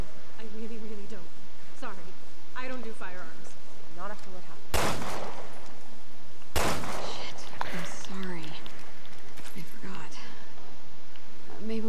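Gunfire from the survival-horror video game Resident Evil Revelations 2: two sharp, loud shots a couple of seconds apart, heard over German commentary from a player.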